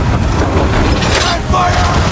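Ship cannon fire during a naval battle in Assassin's Creed 3, heavy booming blasts rolling continuously under loud wind and sea noise, with voices shouting over the din.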